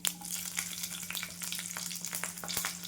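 Green chillies hit hot oil already tempered with mustard and cumin seeds for a spinach dish, a close, steady crackling sizzle with quick popping bursts and a low constant hum beneath; no voices.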